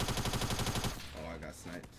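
Rapid automatic gunfire in Fortnite Mobile rattles loudly for about a second, then gives way to quieter game sounds and scattered effects, with no single distinct sniper crack standing out.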